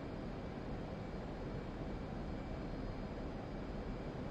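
An F/A-18 Hornet's jet engine roars in a flight simulator game, a steady, unbroken broadband rush that holds at the same level from start to finish.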